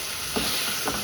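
Kurma ingredients with ground cinnamon and cloves sauté in a hot pan, giving a steady close sizzle and hiss, with soft stirring scrapes rising briefly above it.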